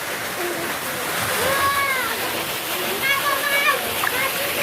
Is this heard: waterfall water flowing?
yes